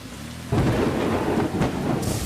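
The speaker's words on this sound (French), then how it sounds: "Oh là là, la tempête se rapproche, on dirait." Thunderstorm moving closer, with a loud rumble of thunder breaking in suddenly and heavy rain hissing steadily afterward.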